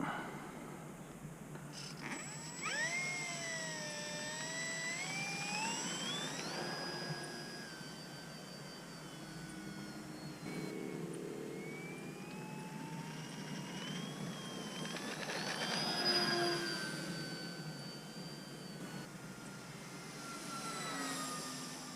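A Durafly Supermarine Seafire Mk IIB RC model warbird with an 1100 mm wingspan, electric and running on 3S, whines overhead in flight. Its pitch rises and falls as it makes passes, and it stays moderately loud throughout.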